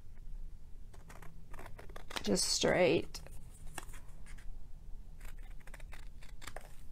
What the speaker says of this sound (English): I'm just gonna make it like cut it off here